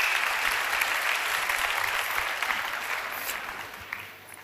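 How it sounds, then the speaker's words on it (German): Audience applause at a political conference hall, a steady wash of clapping that holds throughout and slowly tapers near the end. "Applaus"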